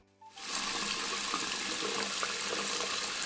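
Cold tap water runs steadily into a sink, starting abruptly and continuing as a close, even hiss.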